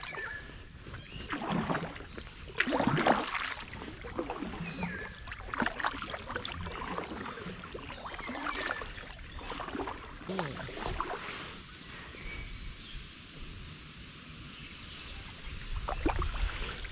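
Oars dip and splash as a rowboat moves across a lake, with irregular strokes and water sloshing close by over soft wind, with no voices.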